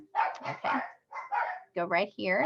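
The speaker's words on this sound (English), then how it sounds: "I apologize for the barking" A dog barks several times indoors, sharp yips and barks in quick bursts, mixed in with someone talking nearby.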